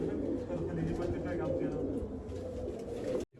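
Pure Rajan-bloodline pigeons coo and flutter close by in a steady, dense stream, with someone talking over them throughout; the sound cuts out abruptly near the end.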